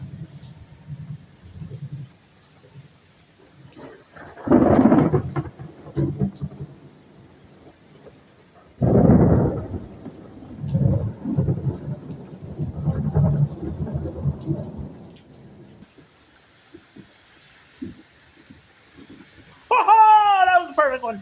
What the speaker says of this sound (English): Thunderstorm of the year!